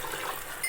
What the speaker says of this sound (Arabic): نحط شويه ميه صغيرين حوالي معلقتين كده مثلا